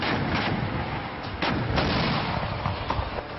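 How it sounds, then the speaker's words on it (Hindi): Artillery guns and tanks firing shells at the Exercise Topchi weapons demonstration, heard as a dense, continuous roll of booms and blasts with sharper reports standing out around the middle, loud and sustained throughout. "तोप और टैंकों से अंधाधुंध बरसते गोले"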